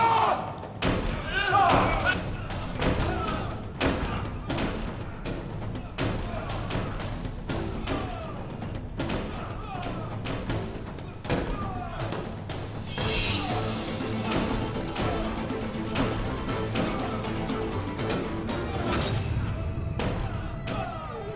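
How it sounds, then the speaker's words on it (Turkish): Soldiers force a castle door in a historical TV drama. Repeated heavy thuds and slams keep up a steady pounding for about twenty seconds, under shouting voices and clatter. "Kırın kapıyı!"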